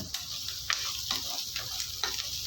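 Onions and ginger sauté in a pan for a Tamil vegetable chutney, giving a steady close sizzle with light stirring clicks throughout.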